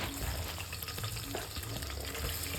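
Onions frying in hot oil with crackled mustard seeds, a steady close sizzle running throughout with light stirring scrapes and a low hum underneath.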